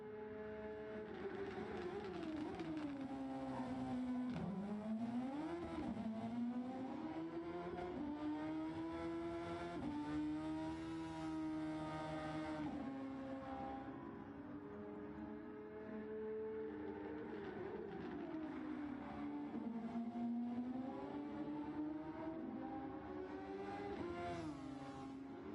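Formula racing cars lap a circuit in the Gran Turismo Sport video game, a steady high engine whine rising and falling through gear changes, loud and continuous with no talk over it.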